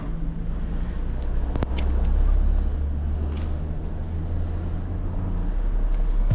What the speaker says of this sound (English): Okay, let's start the car up.